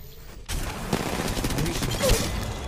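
Rapid gunfire from an Apex Legends Mobile battle royale match, a dense burst of shots starting abruptly after a brief quiet moment and continuing loudly throughout, with a voice faintly present underneath.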